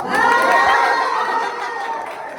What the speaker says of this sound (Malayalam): ഈ ഒരു ആർപ്പുവിളിയും ഒക്കെ എന്തിനാന്ന് ഞാൻ പറഞ്ഞുതരാം